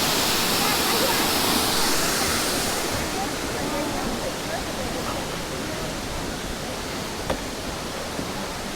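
Steady broadband rush of a waterfall at a scenic overlook, loud and continuous throughout with a slight drop in intensity partway, plus a brief faint knock near the end.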